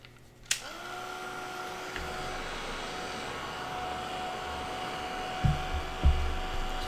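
A hair dryer blows steadily on watercolor paint, a constant whirring drone with a faint high whine after a click starts it, followed near the end by a couple of low bumps and knocks.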